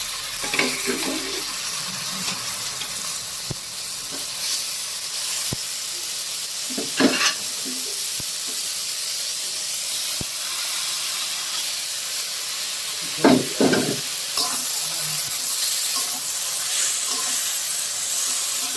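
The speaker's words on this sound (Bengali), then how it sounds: "এবারে দিয়ে দেবো সিদ্ধ করা তরকার ডাল" Boiled tadka dal added to tadka spices cooking in a pan for a dhaba-style egg tadka: a steady steaming hiss and sizzle throughout, broken by a few clusters of loud scraping and stirring.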